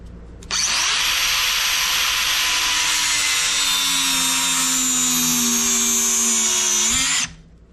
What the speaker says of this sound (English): take a cut-off wheel and cut it off